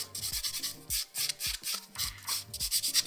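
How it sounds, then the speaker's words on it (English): A 120 grit buffer rubs over acrylic nails after an infill, giving rapid rhythmic scratchy strokes in short bursts with brief pauses, close up and fairly soft, with no talk. "I'm just going to buff over now with the 120 grit buffer that I've got here"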